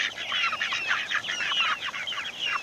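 Chickens clucking steadily in a backyard flock at feeding time, a dense run of overlapping short clucks and chatters close by, with no talk over them.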